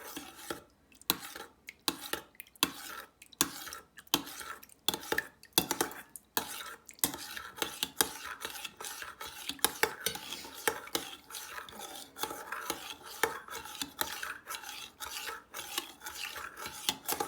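Homemade hand sanitizer being stirred in a container, a rapid run of scraping, clinking strokes against the sides, close and fairly quiet, settling into a steadier swishing rhythm.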